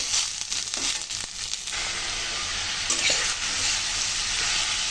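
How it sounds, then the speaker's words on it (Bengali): Potatoes and onions tossed with ginger powder and packet spices in a frying pan, a steady close sizzle with scraping and clattering stirring strokes at the start, no voices. "ভালো করে নেড়ে চেড়ে নেব।"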